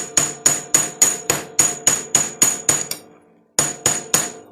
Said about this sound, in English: Okay, so I'm going to hammer flat the two ends.